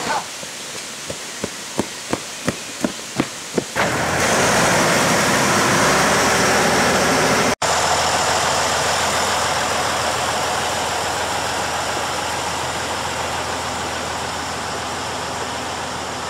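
A few sharp knocks, then a steady engine rumbles loudly and continuously, idling close by with a broad, even drone.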